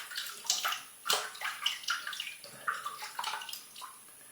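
Water splashes and trickles in short bursts as it is added to a shaving soap lather, close and fairly quiet with no talking.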